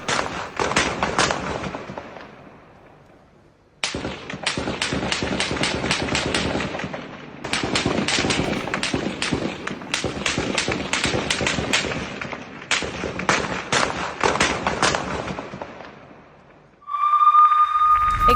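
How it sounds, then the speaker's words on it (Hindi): Gunfire between the Israeli army and residents in Jenin rings out in long rapid automatic bursts, loud cracks repeating in several volleys with short pauses between them, followed by a sustained tone at the end. "जेनिन शहर में सेना और लोगों के बीच हुई गोलीबारी।"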